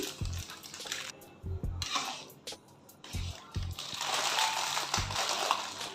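Pav bhaji being mixed in a pan with chopped coriander, giving repeated close scraping and mashing strokes with low thuds in an uneven rhythm, ending in a longer, steadier stretch of sizzle and stirring.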